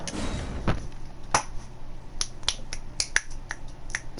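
Crisp finger snaps ring out one after another in an irregular rhythm, close and clear over a quiet room hum.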